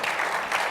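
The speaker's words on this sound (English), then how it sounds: "Well, you can applaud that as well." Audience applause at a public debate on congressional term limits, a short steady patter of clapping from a crowd.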